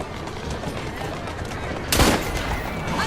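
A single sharp, loud gunshot in the video game Assassin's Creed Syndicate cracks out over a steady background of rumbling game ambience.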